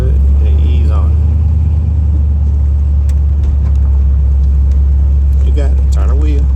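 A car driven by a nine-year-old hums close by in a steady, loud low rumble with mild swells of throttle, while voices speak over it at the start and near the end.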